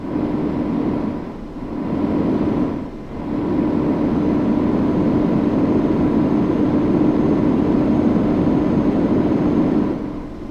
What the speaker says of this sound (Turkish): motor sesini de dibine kadar açtım ki dinleyin yani doya doya